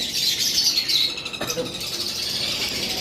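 Lovebirds kept alongside conure chicks chatter in a continuous, dense high-pitched twittering, loud and close, with a few sharper calls standing out from the steady din.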